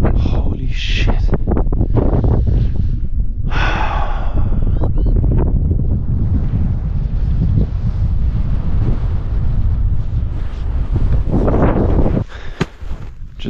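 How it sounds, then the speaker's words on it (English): Strong gusts in the Romanian Carpathian Mountains buffet the microphone in loud, rumbling bursts, easing toward the end, with brief fragments of a voice early on. "So windy."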